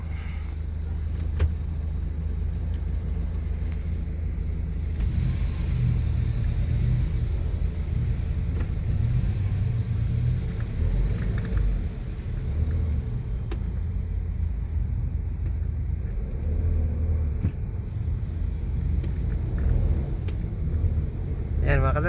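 Stop-and-go road traffic on Kamias Road in Quezon City heard from inside a car, a continuous low engine and road rumble with passing vehicles swelling and fading, steady and fairly loud throughout.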